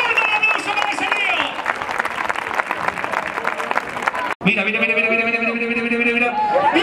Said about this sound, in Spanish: ¡Fuerte el aplauso para ese tío!